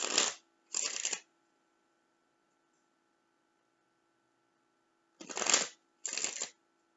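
Tarot cards being shuffled in two pairs of brisk riffling bursts, separated by a long quiet gap, close and clear with no voices.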